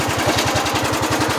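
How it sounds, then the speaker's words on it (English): A GX75 riding mower engine runs at a steady idle, a close, even low-pitched chugging pulse with no voices over it. "Killing the engine."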